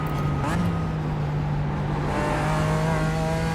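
A car drives on a track in a sim racing video game, a steady engine drone with rising and falling pitch as it revs and shifts, with a voice talking over the motor throughout.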